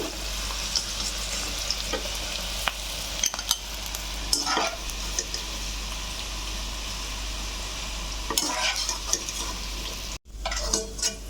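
Jackfruit seeds frying in hot oil in a pan, a continuous close sizzle with scattered clicks and clatters of stirring throughout and a brief dropout near the end.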